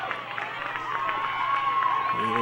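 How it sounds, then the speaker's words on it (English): A crowd cheers at a nearby high school softball game at a state tournament, a distant, steady murmur of voices and cheering with a faint tonal hum running throughout. "the cheering you hear is in the San Juan South Summit game as San Juan finally scores a point in that game"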